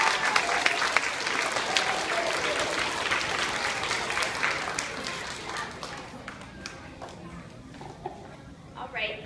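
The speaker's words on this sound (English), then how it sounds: "Give her a round of applause." An audience claps in warm, steady applause for a young girl about to read a story, loud at first and then slowly thinning out, with a few voices underneath.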